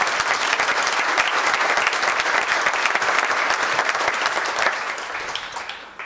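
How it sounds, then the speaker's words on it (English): A large audience claps steadily and densely at a tourism conference in Canaan Valley, West Virginia, the applause loud and sustained before tapering off near the end. "Now you got to clap again."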